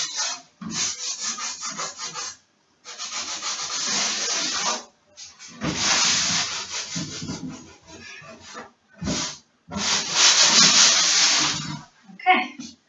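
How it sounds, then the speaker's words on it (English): Hand sanding of a wooden chest of drawers being prepared for paint and waxing, repeated rasping strokes in bursts of a few seconds separated by brief pauses, close and fairly loud. "so that's sanding done"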